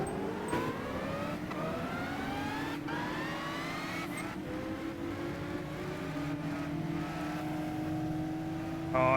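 Race cars in Gran Turismo 5, including a Porsche and a Zonda, with engines revving steadily and climbing through the gears, a sustained loud whine with rising pitch sweeps and occasional shift breaks.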